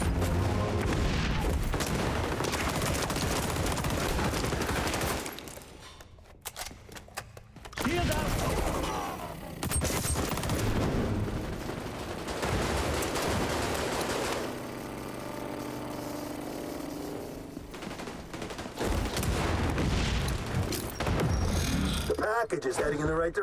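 Rapid pistol shots and explosions ring out in the XDefiant arena shooter, dense and loud throughout with a brief lull midway, while players talk over the action.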